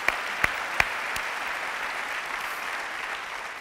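A forum audience applauds Paralympic champion Martina Caironi with dense, sustained clapping. A few loud, sharp claps ring out close by at the start before the sound settles into a steady roar.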